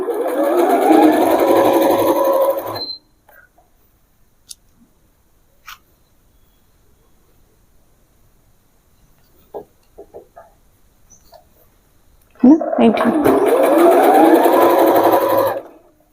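A sewing machine runs straight stitches along a pant seam in two loud, steady bursts, one at the start and one near the end, with near-silence and a few faint clicks between.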